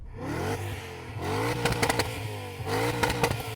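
An E39 BMW M5 engine revs repeatedly, sharp climbing blips separated by short idle dips, with popping crackles on the overrun, close and loud with no voices.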